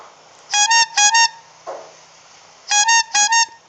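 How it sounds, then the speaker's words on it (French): A large truck's horn blares in two loud double blasts, a pair of long honks near the start and another pair near the end, separated by a brief quieter gap with a soft rustle. "c'est le klaxon d'un gros camion qui s'arrête tout près de Nina"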